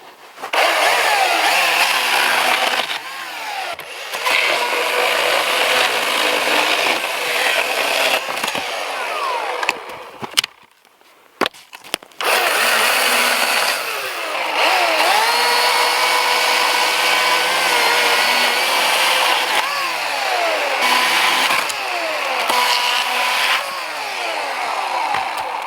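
A chainsaw roars loudly and close while cutting pitch wood, its engine revving up and down, dropping briefly to idle midway before cutting again.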